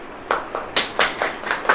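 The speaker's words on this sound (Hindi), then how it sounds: "ताली बजाइए।" An audience at a Hindi church sermon claps in a loose, uneven patter of sharp hand claps, about seven distinct bursts over under two seconds, moderately loud and without voices.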